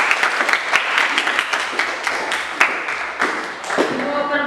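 A class of students clapping during a lesson, brisk and close, with distinct individual claps standing out over a steady patter before it tapers off.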